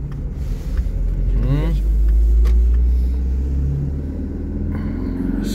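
A Polonez Caro Plus 1.4 16V with a Rover engine is driving, its steady low engine rumble heard from inside the cabin. The drone stays even throughout, with a brief swell midway, and a voice talks over it.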